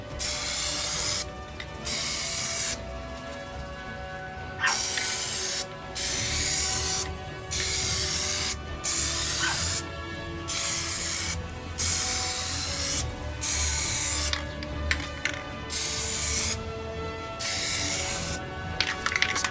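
Spray paint hisses onto cosplay armor in about a dozen short, even bursts with brief gaps between them. The spritzing is steady, close and loud, with no talk.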